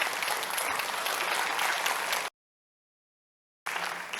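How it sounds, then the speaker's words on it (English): An audience at a Washington state school-funding talk breaks into sustained applause, a broad wash of many hands clapping. It cuts to silence for over a second, then the clapping resumes. "You can give yourselves a round of applause right now."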